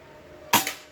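A single sharp pop of a PCP air rifle shot cracks out against faint background hiss, close and brief.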